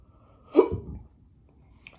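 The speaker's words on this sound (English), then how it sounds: "Still hiccup." A single close hiccup from someone who has just eaten a hot 7 Pot Lava pepper, one short sharp catch with a breathy tail, followed by quiet.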